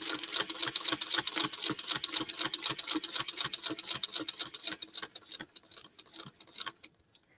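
A sewing machine stitches a quilt seam with a rapid, even mechanical ticking that runs steadily, then slows and stops toward the end.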